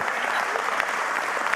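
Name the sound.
audience applause for the contractors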